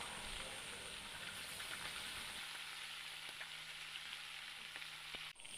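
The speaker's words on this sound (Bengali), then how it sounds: "এবার আমি এর মধ্যে একে একে মাছগুলো দিয়ে দেবো" Bhola fish pieces frying in hot oil, a soft continuous sizzle and crackle heard close up, with a low hum dropping away midway and a brief clatter at the end.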